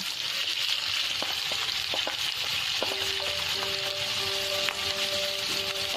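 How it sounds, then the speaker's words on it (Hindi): Chopped onions sautéing over a high flame, a dense continuous sizzle with occasional spoon clinks and stirring, close and even, no voices. "हाई फ्लेम पर इसे सौटे करेंगे।"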